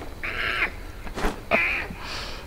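Deer call in the video game H1Z1: two strange, nasal, monkey-like cries with a short rustle between them, fairly close and clear.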